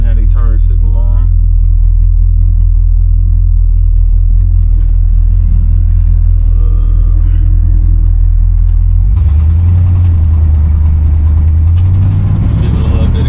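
A 1969 Buick Electra 225 engine heard from inside while driving, a steady loud low rumble that deepens and swells as the throttle opens near the end.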